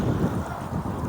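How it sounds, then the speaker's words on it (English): A strong side wind gusts across a microphone at a big fishing pit while bream fishing, a steady loud rumbling buffet with no break, close and alone. "we're back to the ridiculous side wind"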